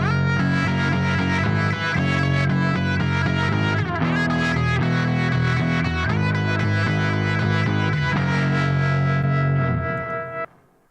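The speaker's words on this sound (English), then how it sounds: "Do you hear that left and right delay that's happening?" Distorted electric guitar run through a stereo left-right delay, a dense sustained part layered with a second guitar line, playing loud and continuous for about ten seconds before cutting off.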